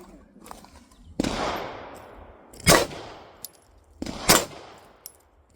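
Beretta APX pistol firing Remington 115 grain range ammo at a range, three loud sharp shots spaced about one and a half seconds apart, each with a ringing decay.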